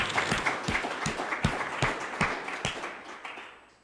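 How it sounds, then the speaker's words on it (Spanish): A church congregation claps together in a steady run of sharp, crowded hand claps that fade out toward the end, with no talk over it. "¿Cuánto le dan ese aplauso al Señor?"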